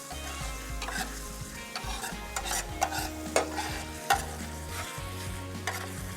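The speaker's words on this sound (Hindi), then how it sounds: "अब इस मसाले को जो हमने अच्छे से भून लेना है।" Masala for a beef boti chana rice dish frying in oil and being stirred steadily: a close, continuous sizzle broken by scraping stir strokes, with no talking.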